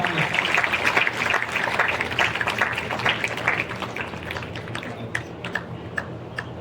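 An audience at a school education award ceremony in Bijapur, Chhattisgarh, claps in a dense, sustained burst of applause that slowly thins out toward the end.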